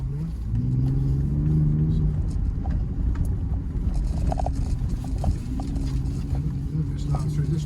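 A 2023 Ford Ranger Raptor pickup accelerating off-road, its engine a steady low drone beneath someone talking, with a rising tone early and rattles from the rough ground.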